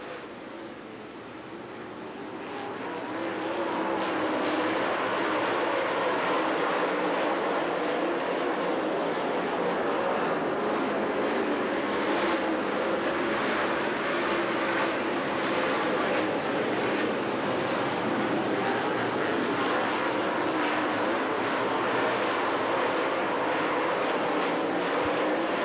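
Super late model race cars roar around the Dixie Speedway dirt track in Woodstock, Georgia, a dense, steady engine drone that swells during the first few seconds and then holds loud and unbroken.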